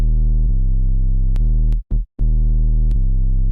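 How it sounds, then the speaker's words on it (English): A deep, buzzy sub bass synth holds steady sustained notes, loud and gritty, with a short gap and a few clicks between phrases. "It's just a sub bass that's kind of distorted."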